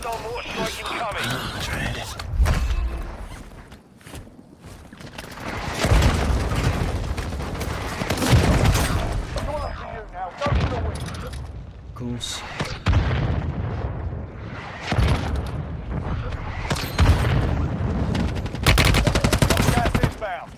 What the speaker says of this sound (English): Hostile war strike incoming.